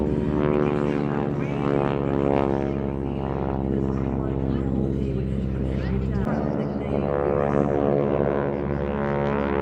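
Early-1940s vintage propeller aircraft fly at an air festival, a steady droning engine note with strong harmonic hum that holds fairly loud throughout, shifting slightly in pitch midway as a plane passes.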